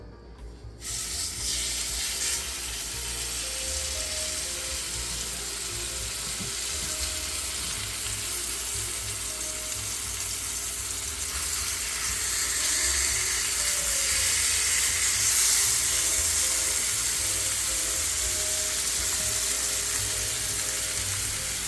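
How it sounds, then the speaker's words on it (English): A steady, loud sizzle of steak searing in a hot skillet, crackling continuously and growing slightly more intense partway through, with no voices. "flicking a little bit of water in your pan to see if it sizzles, because we want a good sizzle"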